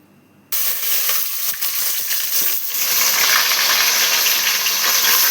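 Onions and green chillies sizzle loudly and steadily in hot oil in a pan, the hiss starting abruptly and growing fuller, with faint stirring clinks underneath.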